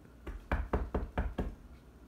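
Five sharp knocks on a wooden door at the entrance of a big house, struck in a quick, even rhythm, close and distinct with no voices.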